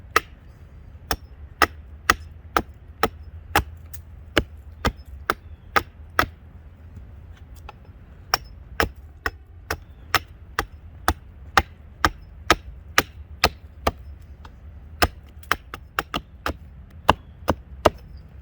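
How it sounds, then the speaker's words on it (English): Trail Boss axe chopping to sharpen the end of a wooden stick, with sharp, evenly spaced wooden chops about every half second over a low steady background, and no talk. "What I do is see if I can just chip away at it and maybe sharpen the end of this stick."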